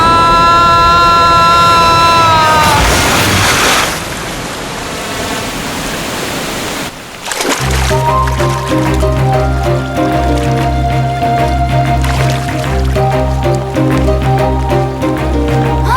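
A person is shoved into water, and a loud, broad splash and churning wash rises over a few seconds before giving way to music.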